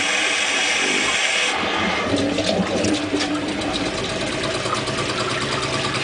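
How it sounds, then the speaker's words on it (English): A small hydroelectric generator turbine spins under running water, giving a steady, loud whirring and rushing drone throughout with no talking. "you can see the generator is rotating with the turbine quite well"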